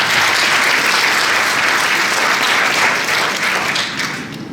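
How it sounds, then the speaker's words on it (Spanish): Loud, dense audience applause rings out at a summer symposium conference for two speakers, a thick continuous wash of clapping that stays strong before tapering off in the final second. "Un aplauso para estos dos caballeros."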